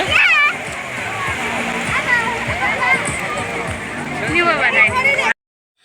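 Sea waves splash onto a beach at Surat, a steady broadband wash that rises near the start and end, while a crowd of adults and children talk and call out over it throughout.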